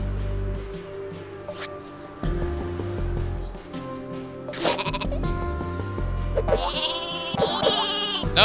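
Sheep weapon in the Worms video game bleating repeatedly over game music and effects, the cries loud and close, with a few short bursts and a busier stretch of sound near the end.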